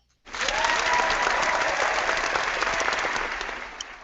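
A studio audience breaks into applause, a full, steady burst of many hands clapping close by that runs for about four seconds with no voices over it.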